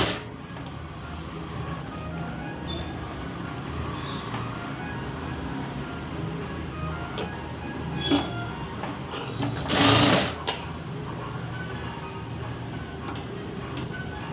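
A sewing machine runs steadily as it stitches the front and back pieces of a princess-cut blouse together, its fast continuous whir close and even, with a brief louder burst near the end.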